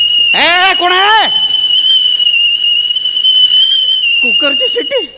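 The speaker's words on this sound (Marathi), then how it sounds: "कुकरची शिट्टी." A pressure cooker whistle shrieks as a steady, piercing tone that holds for the whole stretch on a comedy stage show, while voices cry out in sweeping, rising and falling yells at the start and again near the end.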